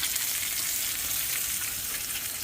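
Bacon frying on a small backpacking camp stove outdoors, a close, steady crackling sizzle that holds evenly throughout with no voices.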